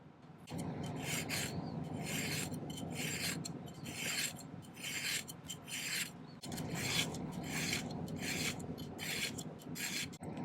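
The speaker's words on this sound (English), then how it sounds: "I think if we do a little vigorous filing, we'll get it on there." A silver fidget spinner ring is filed vigorously by hand, loud close rasping strokes in a steady back-and-forth rhythm, about a dozen strokes with no talk.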